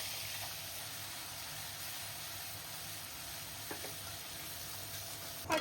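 Raw onion paste frying in oil with whole spices such as cardamom and cloves for a Bengal-style fish curry, giving a constant, even hiss of sizzling with a small clink at the very end.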